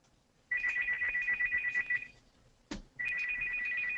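A telephone rings in two bursts, each a warbling electronic trill lasting over a second and a half, with a short clunk between them, close and clear against a quiet room.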